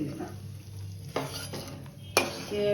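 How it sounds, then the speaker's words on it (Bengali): Peanuts frying in oil in a wok give a low, steady sizzle under scraping stirs, with two sharp metallic clinks of the spatula against the pan; no one speaks. "এটা একটু তেলে ভেজে নিচ্ছি"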